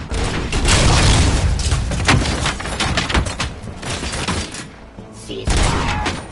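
Gunfire in the RoboCop video game, a dense burst of repeated shots and booms through the first few seconds, easing off and then returning loud near the end, with voices faintly present.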